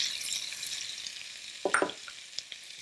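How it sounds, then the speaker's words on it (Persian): Finely chopped garlic frying in a pan gives a steady hiss of sizzling, with a few brief stirring clinks and scrapes partway through. "سیر خیلی خرد شده توی تابه من میریزم و اونو سرخش میکنم"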